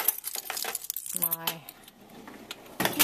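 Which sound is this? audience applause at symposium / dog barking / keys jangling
keys jangling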